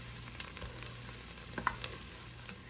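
Garlic fries in a pan with a soft, steady sizzle and faint crackles, heard close and alone without talk.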